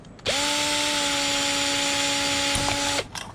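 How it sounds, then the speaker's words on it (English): A power drill bores a hole through the side of an aluminum can for a penny stove, a steady, close whine lasting under three seconds that starts and stops abruptly, with no talking. "come to the exact opposite side of the can, drill hole"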